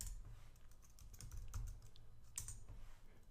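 Soft, quick keystrokes on a computer keyboard as a command is typed into a Linux terminal, a faint steady patter of clicks with no voice.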